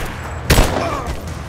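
A single sharp pistol shot cracks out in a Rise of the Tomb Raider firefight, loud and close, then fades into a low ambient tail.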